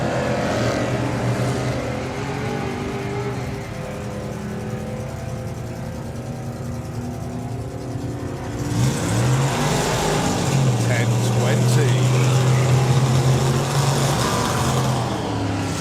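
Drag racing cars do burnouts at a nostalgia drag meet, engines roaring loud and sustained, with a sharper rise of revving and tyre noise partway through, while an announcer talks over it.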